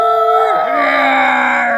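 A person mimics a scary, blood-curdling dog howl with one sustained wavering vocal wail that rises, dips, then holds steady, loud and close with no other sound.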